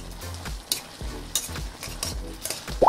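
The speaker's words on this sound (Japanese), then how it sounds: "ここから火をつけてもう水分をですね飛ばしていきます" Pasta water bubbling off in a one-pot pasta pan over medium heat, a low simmering hiss broken by several sharp stirring scrapes and clacks, close and fairly loud, with no voices.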